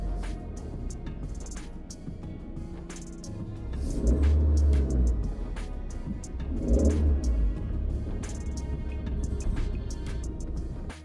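A Suzuki Vitara rolls off-road through field tracks onto grass, its engine rumbling and rising twice in louder surges as it pulls along, with steady mid-level road noise throughout.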